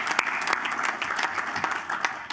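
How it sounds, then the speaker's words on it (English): Applause at a US Coast Guard Auxiliary national event briefing, dense clapping from a crowd filling the room, steady and fairly loud for the whole stretch. "Yes, let's have a round of applause."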